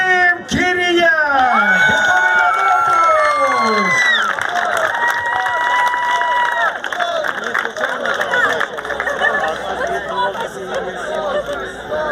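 Crowd at a youth football awards ceremony for the Chernivtsi regional youth league cup, applauding the season's best player; loud continuous clapping and cheering with chatter and shouting voices throughout, following a strong announcing voice at the start.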